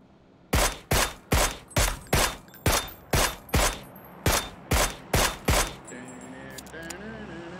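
Rapid-fire gunshots from AK-47 and Mac-11 weapons in a video game ring out as a loud, evenly spaced volley of about a dozen sharp cracks, followed by quieter clattering game sounds.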